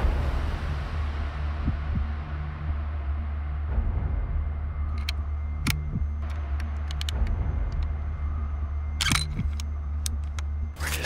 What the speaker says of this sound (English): We're just driving down the road